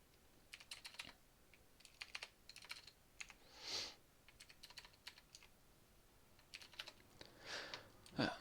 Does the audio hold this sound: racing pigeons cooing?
no